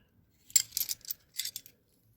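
Craftsman hand wrenches clink lightly against each other as they are handled, with a few close, bright metallic taps in two short bursts and no talking.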